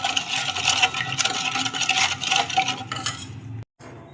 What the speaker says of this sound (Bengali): নুনটাকে দিয়েও একটু গুলে নেব।